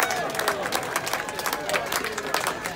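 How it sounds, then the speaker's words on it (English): Crowd clapping and cheering at an outdoor Christmas lights switch-on in Pangbourne, a dense patter of many hands with voices mixed in, steady and fairly loud throughout. "A round of applause for those people"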